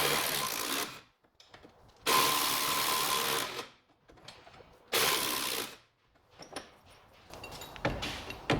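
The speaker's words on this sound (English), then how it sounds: "Ratchet on this side and then your spanner on the other side." A ratchet undoes 22mm nuts on the rear dog leg of an Alfa Romeo GTV Spider 916, heard as three long bursts of dense mechanical whirring separated by quieter gaps with lighter clicks and handling noise.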